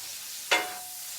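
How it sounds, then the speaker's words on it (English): Butter sizzles in a pan as pork scaloppini starts cooking, a soft steady hiss broken by two brief, louder spitting bursts. "Just let it get sizzling."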